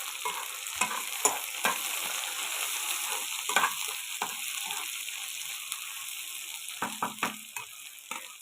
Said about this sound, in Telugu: ఇది వేగుతుందండి.